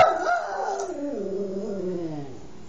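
A dog gives a short yip followed by a long, drawn-out whining howl that slowly falls in pitch, close and fairly loud, with no talking.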